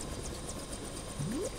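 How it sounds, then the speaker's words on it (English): A helicopter in the LEGO Jurassic World video game whirs with steady rotor chop and engine drone throughout, a short rising game tone near the end, no talking. "There's another chopper coming!"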